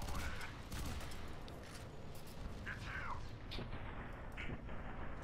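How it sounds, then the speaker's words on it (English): Rapid-fire nail gun, the Penetrator weapon in the shooter game F.E.A.R. 3, with its rate of fire increased, clattering in dense bursts over a busy, continuous wash of combat noise and thuds. "they increased the rate of fire on this nail gun."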